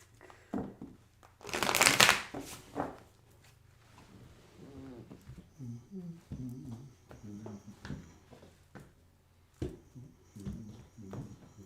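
Tarot cards are shuffled and handled up close, with a loud burst of riffling and crinkly card noise early on, then scattered softer taps and slides between stretches of talking.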